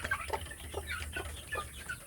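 Free-range village chickens cluck in a coop used for raising breeding hens, with short repeated clucks and calls spread through the clip over steady low background noise.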